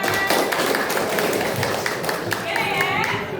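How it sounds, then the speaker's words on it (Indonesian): Students in a school classroom clap together in a busy, moderately loud patter of many hands, mixed with a few thumps. A voice speaks briefly near the end. "Oke, tepuk tangan."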